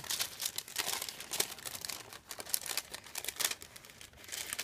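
Paper being folded and creased to line a soap mould: continuous close crinkling and rustling with bursts of sharper crackle as the sheets are pressed along their folds.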